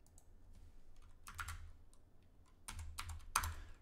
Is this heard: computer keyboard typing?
yes